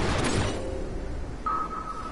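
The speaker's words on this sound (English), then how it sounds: "That's the sound of a piece of floor" A short synthetic effect of a floor piece being placed in Final Fantasy XII: The Zodiac Age: a soft whoosh, then a thin steady electronic tone sounds and holds, with no talking.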